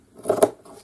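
Scissors snipping through a strip of fabric, a single short, close cut with a soft metallic scrape of the blades.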